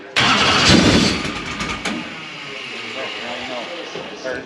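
A car engine cranks and turns over loudly without catching, a churning mechanical whir that fades into lower rumble, with people talking over it during engine and fuel-line repair work.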